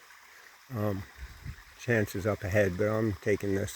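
A small intermittent stream trickles toward a culvert near a trail parking lot, a faint steady water wash under a hiker's nearby talking.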